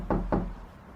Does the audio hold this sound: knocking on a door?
yes